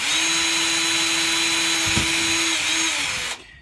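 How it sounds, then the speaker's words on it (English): A power drill whines steadily at close range for about three seconds as it drills a hole in PVC pipe, its motor pitch holding level before it winds down and stops. "So, drill another hole."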